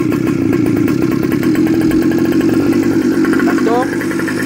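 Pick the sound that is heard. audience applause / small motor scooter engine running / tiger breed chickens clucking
small motor scooter engine running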